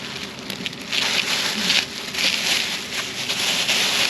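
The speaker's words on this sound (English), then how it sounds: "It's raining and cloudy" Steady rain falls under cloudy skies in the Philippines, a continuous broadband hiss of drops hitting surfaces that swells slightly in intensity partway through, with no voices.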